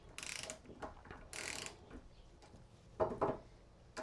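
A torque wrench ratchets in short bursts while tightening bolts on a 2007cc air-cooled VW engine for a Manx buggy, giving a few quick close clicking runs with quiet pauses between them.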